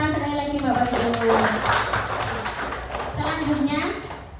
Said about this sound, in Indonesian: Tepuk tangan sekali lagi Bapak Ibu